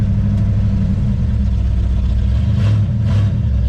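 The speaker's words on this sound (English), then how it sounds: "It's in reverse. And we are backing up." An old project car's engine runs steadily at a low, rough idle as it is shifted into reverse and starts backing up, loud and close, with no talking.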